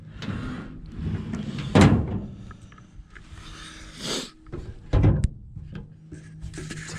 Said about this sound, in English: tailgate goes up and down, shuts,